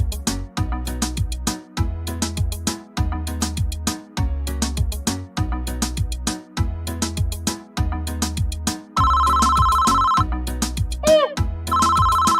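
A telephone rings with an incoming call, a loud repeating electronic ringtone that plays on and off over a steady musical backing for most of its length.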